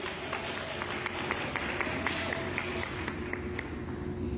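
Steady applause from an audience at a nighttime October festival show in Mexico, a dense even patter of many hands clapping throughout with a faint crowd murmur beneath.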